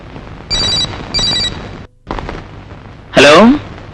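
A telephone rings in a movie scene, two short loud bursts of ringing, followed by brief clatter and a sharp rising electronic tone.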